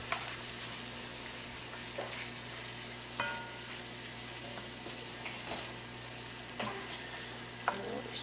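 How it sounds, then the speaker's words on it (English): Sausage and flour being stirred in smoky grease in a pan over medium-low heat for biscuits and gravy, a steady close sizzle with scraping spoon strokes every second or so. "So let's stir this all in. Get all of our sausage coated. That flour soak up all that smoky grease."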